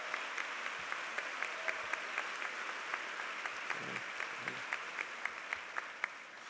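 A commencement crowd at a spring university graduation applauds campus leaders, the clapping distant and fairly quiet with steady scattered claps across the hall.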